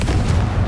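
A deep booming blast from the Confringo fire spell in the Hogwarts Legacy video game, a short loud rumbling burst with heavy low-end energy.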